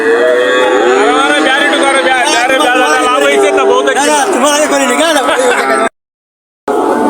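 Cattle at a village cattle market moo loudly and close by, one long drawn-out low call with rising and falling pitch, over a steady background of crowd noise, ending in a brief silence.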